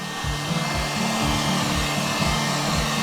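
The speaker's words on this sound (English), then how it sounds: "use this hot air heat gun just to give those molds a warm up" Hot air heat gun blowing on metal and stone soft-lure molds in cold weather: a loud, close, steady fan roar with a pulsing low rumble, running continuously throughout.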